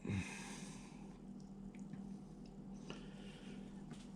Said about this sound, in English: So we're going to get the olive oil into the bowl.